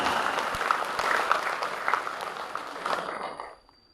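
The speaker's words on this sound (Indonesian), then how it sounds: "Tepuk tangan untuk peserta" Audience applause for participants at a BKPRMI community event in Ciamis with over 400 attendees, a dense, sustained crowd clapping that fills the room steadily before cutting off sharply near the end.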